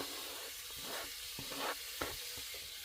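Chopped green onions dropped into about two spoonfuls of hot oil in a pan, giving a steady hissing sizzle with a few soft clinks and stirring taps; close and moderate, no talking.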